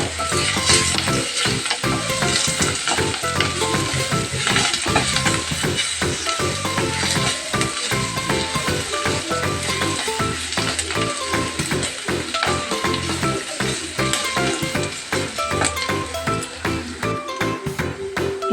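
Tomato chutney paste stirred in a hot frying pan, a continuous close sizzle broken by steady scraping and stirring strokes, with no voices over it.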